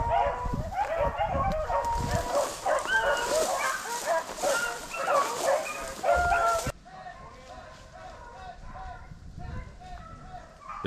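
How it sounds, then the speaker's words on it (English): Hunting dogs bark and yip in an excited chase after a rabbit along a briar-lined hedgerow, calls overlapping loudly for several seconds, then continuing fainter and farther off. "The dogs have done jumped and run the rabbit all the way down this hedgerow."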